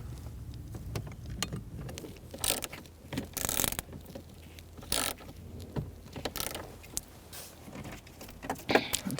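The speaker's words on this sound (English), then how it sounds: "now I'm going to use a socket to try to hand tighten that one as well" Bolt being hand-tightened with a socket while replacing the HVAC blend door actuator on a 2000-2007 Ford Taurus, heard as a series of irregular close ratcheting clicks and scrapes with quiet gaps.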